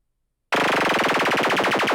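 A dubstep sample from the EarSketch sound library kicks in abruptly after half a second of silence, then runs as a loud, dense, rapid stutter of repeated pulses, like a gritty machine-gun wobble, with no voices.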